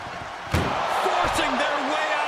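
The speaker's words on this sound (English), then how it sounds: "Trying to at least slam one door shut." In a WWE wrestling video game, an ambulance door slams once, a sharp, loud bang early on, with a commentator's voice continuing faintly beneath.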